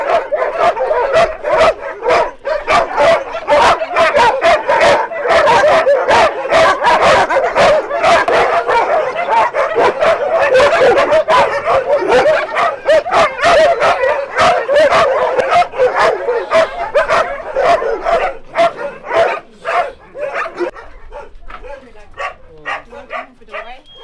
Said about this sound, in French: J'arrête pas de voir des chiens partout